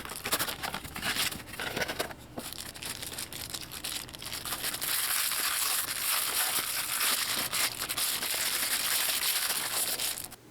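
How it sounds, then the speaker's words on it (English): Packaging from a Beyblade Burst B-48 Starter Xeno Xcalibur box with sword launcher crinkles and crunches close by as it is handled and crushed. The rustling is loud and continuous, with no speech. "Let's get to unboxing."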